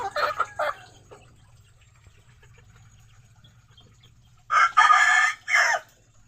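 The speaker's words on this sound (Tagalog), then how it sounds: "bali bali mga limang piraso na native chicken ang ibenta natin" Native chickens cluck in short bursts, then a rooster crows loudly nearby in a long broken call, over a quiet low hum with no talk.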